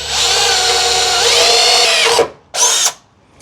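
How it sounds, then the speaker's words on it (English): A power drill with a small bit bores a pilot hole for mounting a light bracket, one steady loud whine lasting about two seconds that sags as the bit bites, then a short second burst, close up with no talk. "I'm going to drill the first hole with a smaller bit to make a pilot hole for the larger"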